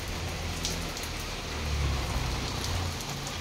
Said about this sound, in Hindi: मतलब बारिश चालू हो गई